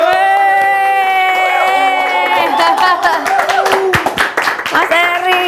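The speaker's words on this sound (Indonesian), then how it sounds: "Tepuk tangan dong buat Ghost Ranger." Studio audience clapping and cheering to welcome guests onto a talk-show set, with a bright musical backing running underneath. The claps build into a dense burst toward the end, joined by a few whoops.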